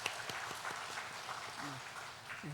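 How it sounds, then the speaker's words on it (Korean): A church congregation claps in welcome during a Sunday worship service, a steady moderate patter of many hands with some speech and sung tones mixed in. "우리 박수로 환영하겠습니다"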